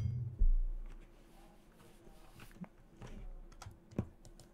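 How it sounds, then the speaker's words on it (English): Clicking keys on a mechanical keyboard, a steady close patter of light taps with a louder thump near the start, heard alone at low level. "my keyboard is a mechanical keyboard, and it makes a lot of clicking noise"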